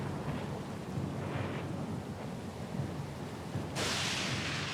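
A thunderstorm in the video game Pillars of Eternity 2 rolls as a steady low rumble, with a sudden hiss of heavy rain or wind surging in near the end.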